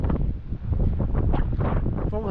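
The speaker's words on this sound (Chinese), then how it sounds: "风很大哦，不要看这个浪小小的哦，但是风很大" Strong wind buffets the microphone on an Okinawa fishing coast by the sea, a loud, continuous rumbling roar with gusty swells; a voice speaks briefly over it.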